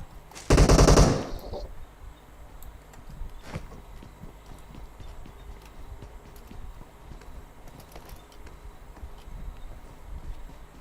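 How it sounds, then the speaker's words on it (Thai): A short, loud rapid burst of gunfire in PUBG Mobile, a single rattling volley lasting under a second, then quiet background with faint scattered clicks and footsteps. "ปืนลั่น"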